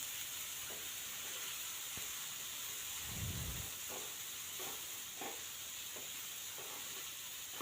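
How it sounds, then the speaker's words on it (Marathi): French beans fry in a hot pan for a dry bhaji, giving a steady soft sizzle and hiss broken by a few light scrapes and taps of a spoon stirring, with a brief low rumble partway through. "भाजी या ठिकाणी आपण छान अशी परतून घेतली आहे"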